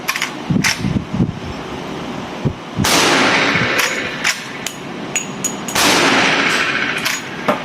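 A Henry Big Boy lever-action rifle in .357/.38 with a 20-inch octagonal barrel fires several sharp, loud cracks spaced a few seconds apart, each trailing into a noisy outdoor rumble, with lighter clicks of the action between shots.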